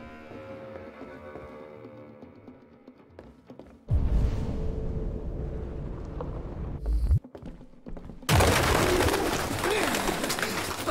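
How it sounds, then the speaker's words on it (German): Pigeons in the video game Detroit: Become Human, with soft cooing and fluttering under a quiet stretch and then louder bursts of game ambience and noise. "Was ist das denn? Ein paar Tauben,"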